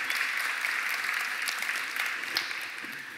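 An audience at a talk on human potential bursts into applause, a steady, even wash of many hands clapping that carries on for a few seconds and slowly tapers off.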